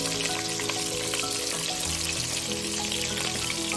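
Onions frying in oil for a Tamil fish curry (meen kuzhambu), a steady dense sizzle with faint crackles running continuously and fairly close, no voices over it.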